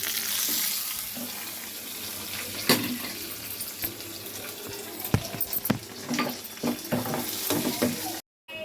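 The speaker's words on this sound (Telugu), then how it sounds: "ఇలా పోపు దినుసులు వేసుకొని వేపుకుంది" Tempering spices fry in hot oil with a continuous crackling hiss, interrupted by occasional clinks and stirring knocks, close and steady until a sudden cut near the end.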